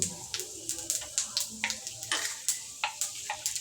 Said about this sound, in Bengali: তেল গরম হয়ে গেলে দিয়ে দেব পাঁচ ফোড়ন